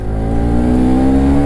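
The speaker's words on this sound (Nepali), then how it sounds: "अनि बाइकको साउन्ड क्या दामी आइदिने हेर न" A motorbike engine runs steadily up close with a constant low droning hum and a slight rise in pitch, with no talking over it.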